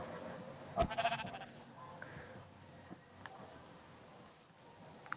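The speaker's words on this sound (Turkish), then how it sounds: "koyun." A Minecraft sheep bleats once, loud and wavering, followed by quieter clicks and faint background tones.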